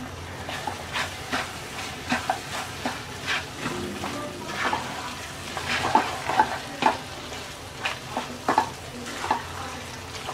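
Gooseberry pickle frying in a pan: soft sizzling under repeated scraping and stirring strokes, irregular taps of a utensil against the pan, close by with no talking.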